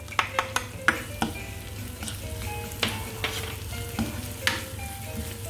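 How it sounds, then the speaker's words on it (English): Spring onions and garlic sautéing lightly in a tablespoon of regular oil, a soft steady sizzle with clinks and scrapes of a utensil stirring against the pan, close and alone without voices. "Just lightly sauteed."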